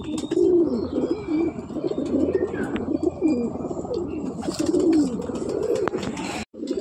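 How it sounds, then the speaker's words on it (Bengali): Old-generation Giribaj pigeons coo in repeated soft throaty phrases, close and steady, with a few faint chirps and a brief rustle near the end. "খুব সুন্দর পায়রা"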